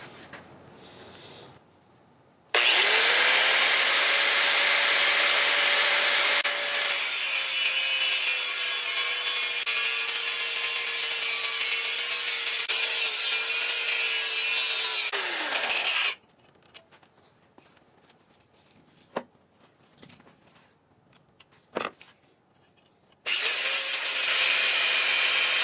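A Bosch angle grinder fitted with a 4.5-inch Harbor Freight cutoff wheel screams through metal for a tricycle build, two long loud cutting passes with a falling whine at the end of each, separated by quieter clinks and handling noises.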